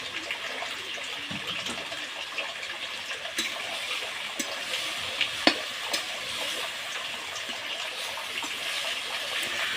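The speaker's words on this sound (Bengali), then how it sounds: "তো এখন এটা ভালোভাবে ভেজে নিতে হবে" Taro root paste with turmeric frying in a pan in a village kitchen, giving a steady hiss with scattered stirring scrapes and a few sharper clicks, close and continuous.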